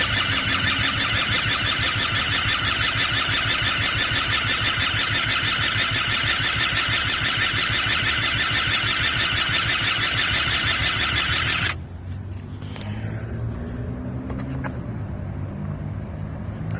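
An Eaton Beamer III engine runs with a loud, steady mechanical drone for several seconds, then cuts off abruptly, leaving a quieter rattling tail.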